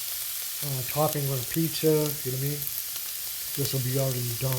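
Omelet filling sizzles and fries in a pan as a steady hiss throughout, while someone talks over it close to the microphone.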